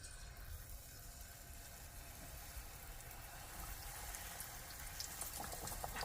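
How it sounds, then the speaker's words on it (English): Battered frozen chicken patty frying in hot oil, a quiet, steady bubbling hiss that grows slightly louder toward the end, with no voices. "I'm going to let this fry on each side for about somewhere between 2 to 3 minutes."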